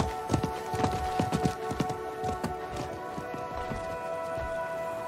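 Horse hooves gallop in rapid clip-clop rhythm in the video game Diablo 4, a merchant's horse running past at close range, steady and fairly loud over a faint ambient game background with no talking.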